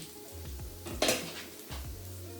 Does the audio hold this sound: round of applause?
no